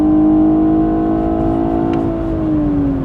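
A 2020 BMW 840i xDrive Gran Coupe with M Sport package and 8-speed automatic, in Sport Plus mode, hums loud and steady from inside the cabin, its engine note holding then sliding lower as it shifts, with no talking.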